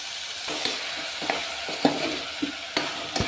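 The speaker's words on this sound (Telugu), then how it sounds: "కొంచెం బాగా ఫ్రై చేసుకోవాలి." Sambar ingredients fry and get stirred in a pan, a soft steady sizzle broken by several close scraping stirs, with no talking.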